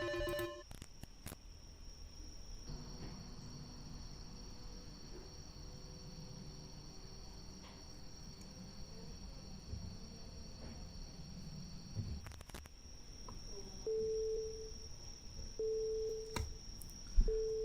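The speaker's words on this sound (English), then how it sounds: "another strange phone call" A telephone rings in a mystery video game, a short repeating electronic tone that sounds in evenly spaced bursts toward the end over a faint, steady hum, with no one talking.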